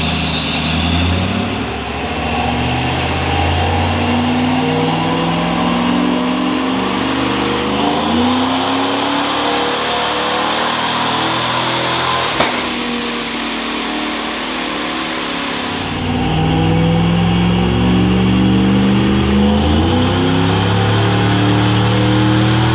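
A Vortech-supercharged first-generation Ford SVT Lightning pickup with 200,000 miles roars on a dyno, a loud, sustained engine note that climbs steadily in pitch through the gears, dips briefly mid-run, then surges again with supercharger whine.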